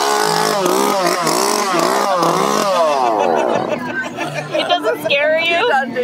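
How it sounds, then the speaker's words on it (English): A chainsaw revs loudly in bursts at a haunted attraction, its whining engine rising and falling under shouting and chatter from a crowd, then easing off as voices carry on. "That's my son with the chainsaw."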